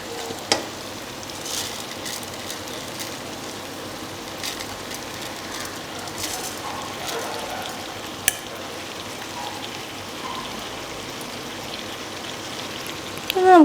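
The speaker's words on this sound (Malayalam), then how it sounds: "നമുക്ക് 2 മിനിറ്റ് ഒന്ന് റോസ്റ്റ് ചെയ്തെടുക്കാം കേട്ടോ." Washed rice for Arabic samak rice roasts in a hot pan with a steady, close sizzle and crackle, with a few light utensil clicks over the top.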